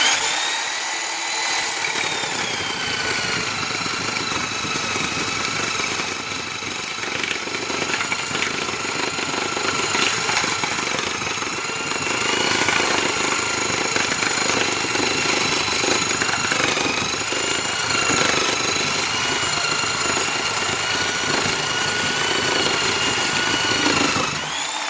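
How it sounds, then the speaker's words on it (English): A Porter-Cable orbital Tiger Saw reciprocating saw with an aggressive blade cuts steadily for about twenty-five seconds, a loud, buzzing motor whine that strains and bogs under load at close range. "you could actually hear it bogging down because of how aggressive this blade was"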